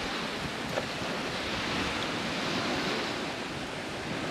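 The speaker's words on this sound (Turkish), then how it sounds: "Daha fazla rüzgar var." Steady roar of wind mixed with the wash of surf at a bay on the Izmir coast, a constant broadband rush with no voices, buffeting the microphone.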